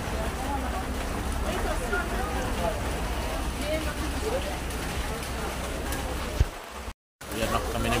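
Heavy rain pours down steadily on an island in El Nido, Palawan, a loud, continuous wash of noise with faint voices mixed in, cutting out briefly near the end.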